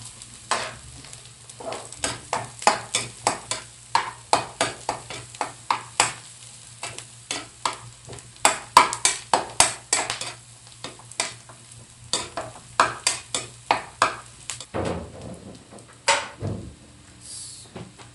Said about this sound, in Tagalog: Habang nagigisa tayo